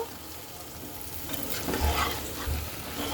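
Desi rooster (country chicken) meat frying in a pan, stirred by spoon, with a steady broadband sizzle and a couple of soft low scraping knocks near the middle; close and moderately loud, no talk.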